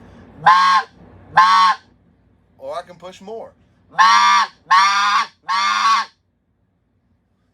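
Speck goose call blown with changing air pressure, giving five loud, harmonically rich honking calls at shifting pitch plus a softer, choppy burst of notes in between, with a brief spoken phrase also present.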